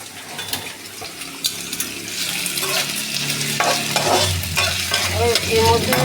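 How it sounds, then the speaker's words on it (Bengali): Potatoes and chilli fry in hot oil while a spatula scrapes and stirs them around the pan, with a steady sizzle, repeated metallic scraping and clinks, close and fairly loud, no talking. "এর মধ্যে লঙ্কাটাও ভাজা ভাজা হয়ে যাবে।"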